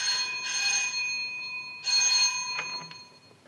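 A telephone rings in two bursts of bright electric bell tone with a short gap between them, clear and close, followed by a few softer clicks.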